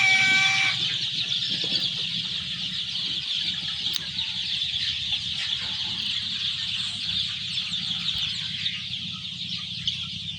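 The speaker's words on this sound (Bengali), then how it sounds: "এ হলো আমার সোনালী মুরগি।" Four-day-old Sonali chicks, part of a flock of about 1,100 in a poultry shed, fill the air with a loud, continuous chorus of high peeping and clucking, with a brief flutter of wings.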